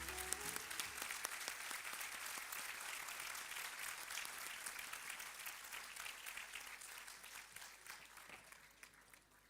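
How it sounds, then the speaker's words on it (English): Sustained audience applause at a school stage event for Grade 1 learners, a dense wash of many hands clapping steadily for about ten seconds with no talk over it. "Ladies and gentlemen, continue your round of applause."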